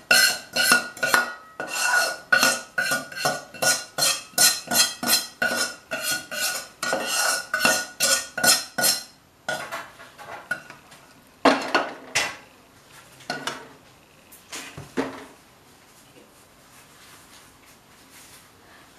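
Spices being stirred and mixed into jaggery in a pan, a quick run of repeated metallic scraping strokes from a spoon against the pan, then slower, sparser scrapes and knocks, close and alone.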